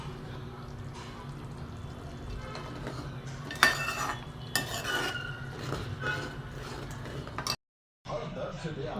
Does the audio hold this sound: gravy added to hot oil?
yes